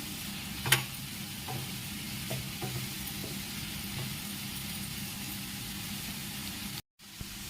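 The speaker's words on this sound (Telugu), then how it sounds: "గోల్డెన్ బ్రౌన్ కలర్ వచ్చేంత వరకు వీటిని బాగా కలుపుకుందాం" Cowpea curry ingredients sizzle in a pan as they are stirred until golden brown, with a steady frying hiss, a few faint scraping taps and one sharp clink near the start before a brief cutout.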